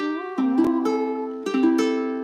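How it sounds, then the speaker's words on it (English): Ukulele in standard re-entrant high G tuning, strummed in a few ringing chords with short gaps between them, close and clear with no voices. "In normal ukuleles, the standard tuning is a high G, so it sounds like this."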